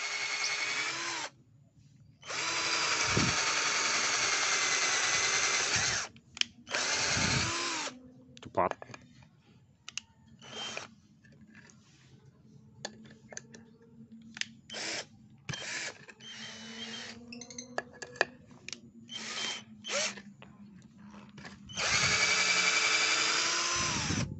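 A cordless drill whirs in several long bursts into acacia wood, separated by quieter stretches of talking and handling noises.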